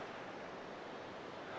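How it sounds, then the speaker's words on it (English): The Big Wood River rushes past outdoors as a broad, continuous, fairly loud wash of flowing water with no pauses. "look at the river"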